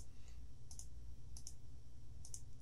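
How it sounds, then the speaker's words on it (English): A computer mouse clicks about five times, sharp and close, in an irregular rhythm over a steady low room hum, with no talking. "you can do it by left clicking at different sort of waypoints in the spline contour"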